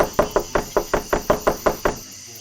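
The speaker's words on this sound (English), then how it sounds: "Just keep knocking, Kay." Knocking on a door in the video game NORCO: about ten firm, evenly spaced knocks in a steady rhythm, close and loud, with no talk over them, then stopping.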